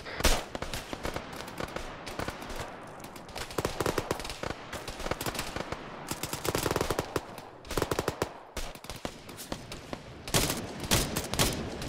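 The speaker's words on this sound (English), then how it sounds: "Open fire. Shots." Gunfire in the video game Arma 3: rapid automatic bursts and scattered single shots crackle nearly nonstop, some close and loud, others slightly farther off, building to heavier volleys near the end with no one speaking.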